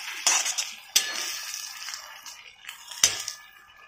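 A spoon stirs a dry bhaji of black val beans in green masala with coriander in a pan, giving a few sharp metallic clinks over soft scraping, quiet and close.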